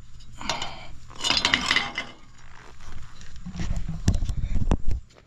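The knife of an Oliver 82 mower slides back into its bar in bursts of metallic scraping and rattling, ending in a few sharp clinks and clanks close up.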